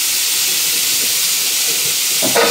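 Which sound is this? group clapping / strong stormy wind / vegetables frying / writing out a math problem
vegetables frying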